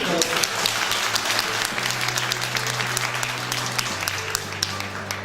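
Loud, sustained applause from an audience at a numismatic music album release ceremony, dense clapping throughout with a steady musical tone underneath.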